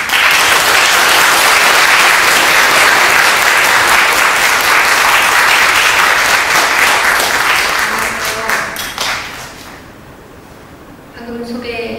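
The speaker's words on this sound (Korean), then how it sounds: "우리 대표님 나오실 때 큰 위로와 격려의 박수를 부탁드리겠습니다" A hall audience at a church presbytery seminar breaks into sustained, dense applause to welcome the next speaker, loud and steady for about nine seconds before fading out, followed by a brief quiet and some faint sounds near the end.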